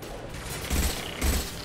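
Two short bursts of rapid gunfire in Mass Effect 2 Legendary Edition over a steady mechanical background, loud and close.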